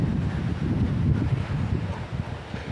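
Strong storm wind buffeting the microphone, a continuous low roaring rumble with gusty fluctuations, loud and close, with no clear voices.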